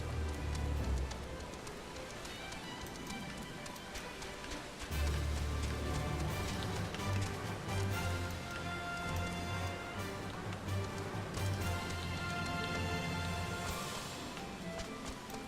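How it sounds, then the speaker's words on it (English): Steady rain falling in a desert within a video game, a constant soft patter and hiss that carries on throughout with little variation. "Actually, it's raining in the middle of a desert."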